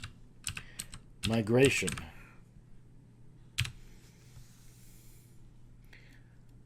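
Search terms typed on a computer keyboard, a few quick close key clicks in short bursts, with a spoken word among them and quiet pauses between.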